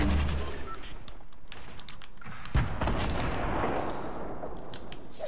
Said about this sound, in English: I'm shooting my grenade.